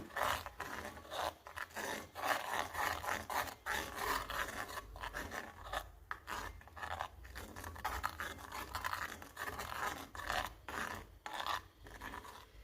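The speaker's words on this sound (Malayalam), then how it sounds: "ഇനി നല്ലപോലെ ഒന്ന് മിക്സ് ചെയ്ത് കൊടുക്കാം" A spoon scrapes and rasps continuously around a pan while stirring a thick mixture of coffee and henna powder, close and steady with irregular scratchy strokes.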